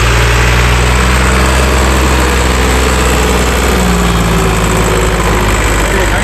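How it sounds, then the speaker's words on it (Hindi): A tractor engine runs steadily, with a loud, constant low idling rumble and vibration throughout, and no break in the sound. "वो ट्रैक्टर है जिसकी बात कर रहे थे कि हर मोड़ के ऊपर हमें धोखा देता है।"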